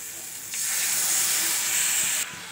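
Water poured into a hot pan while cooking egg curry bursts into a loud sizzling hiss that holds steady for about two seconds and then cuts off abruptly, with the cooking heard close up and no talking.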